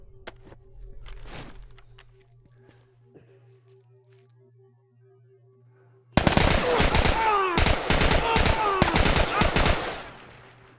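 Rapid automatic gunfire in The Last of Us, a burst of loud, dense shots erupting after several seconds of quiet ambience with a few faint clicks and footsteps, continuing for about four seconds before fading.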